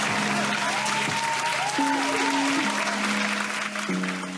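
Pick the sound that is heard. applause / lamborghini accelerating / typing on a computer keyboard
applause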